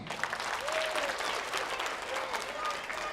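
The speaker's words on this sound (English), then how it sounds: "Give them a round of applause." An audience at an elementary school literacy night claps steadily in a dense, moderately loud round of applause, with some voices and cheers mixed faintly underneath.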